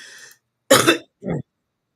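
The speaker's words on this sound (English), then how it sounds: "I'm starting to cough." Two quick coughs, the first louder and rougher, the second shorter, close by with silence around them.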